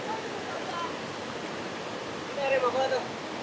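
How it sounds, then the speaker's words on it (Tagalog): Cold spring water flows over rows of stones at a Zambales picnic spot, a steady soft rushing wash, with a brief burst of birdsong chirps near the end. "Galing po sa bukal ang tubig dito"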